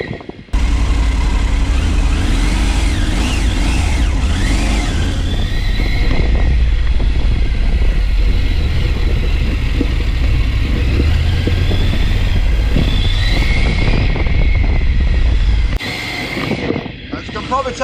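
A motorbike engine rumbles steadily and loudly throughout a road ride, with a continuous low drone and shifting revs; it drops away abruptly near the end.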